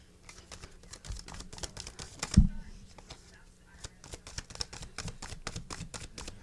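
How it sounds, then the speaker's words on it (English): Cards riffled and shuffled in quick repeated bursts during a late-night chat show, crisp ticking clatter close by with one loud thump midway, while people talk faintly in the background. "Shuffling."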